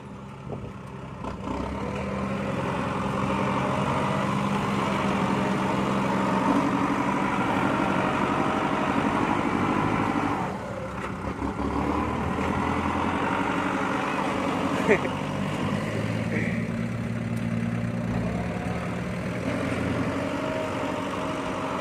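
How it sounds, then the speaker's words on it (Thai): Tractor engine running steadily at a pond dredging job during the rainy season, a continuous low mechanical drone with a brief dip midway, with people talking nearby over it. "รถไถแรงครับ อัดเจ็ดออกอีกอัด"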